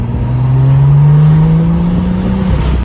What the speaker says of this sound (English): Of course, I replaced mine with a cold air intake, which makes amazing sounds like this.